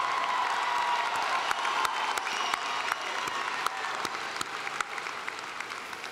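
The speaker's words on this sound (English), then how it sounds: "Will the spouses, children, and grandchildren of our candidates please stand and receive our applause?" Commencement audience at a Lamar University College of Arts & Sciences graduation applauding candidates' families, a dense, steady roar of clapping across a large hall with a few sharper individual claps standing out.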